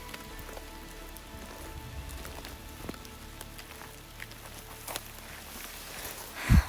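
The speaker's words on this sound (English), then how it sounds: "Is it raining inside the rainforest?" Steady light rain patters through the Hoh Rainforest in Olympic National Park, a soft continuous hiss with scattered drips, faint throughout and ending in a brief close bump.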